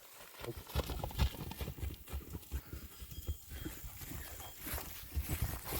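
Hooves of a two-year-old Percheron stallion pound the ground in a steady clip-clop rhythm as he runs nearby, with a heavy, thudding beat and no talk over it.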